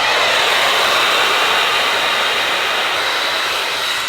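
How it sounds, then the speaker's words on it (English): A hair dryer blow-dries short hair with a steady, loud, even rush of air that holds without a break, easing off a little at the very end. "So I'm gonna blow dry just a bit."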